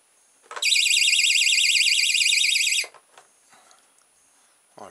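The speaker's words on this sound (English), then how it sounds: "I've inserted the alarm inside there, stuck it in place." Small electronic alarm fitted inside a toy car goes off as the car is lifted, a loud warbling siren-like tone lasting about two seconds before cutting out, followed by faint handling noises.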